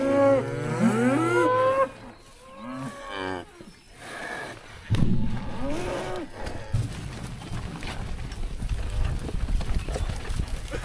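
Cattle in a farm herd moo loudly and close by, several long low calls in the first half, followed by shuffling, hoof sounds and general movement from the animals.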